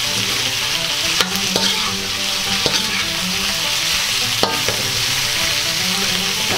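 Marinated chicken for pinatisang manok frying in a pan on a stove turned up high, a loud, dense, unbroken sizzle up close with occasional sharp clinks of a utensil; no voices.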